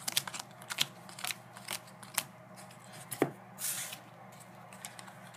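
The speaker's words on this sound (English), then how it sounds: "I apologize if my shuffling is slow and bad." Yu-Gi-Oh trading cards are shuffled by hand in quiet bursts of soft riffling and snapping clicks, uneven and close, with no talking.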